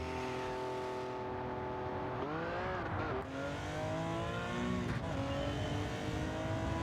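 A Porsche 917 race car at Spa in Gran Turismo 7, its engine droning steadily with rising and falling pitch as it brakes and accelerates, a brief tire squeal, heard alone and close.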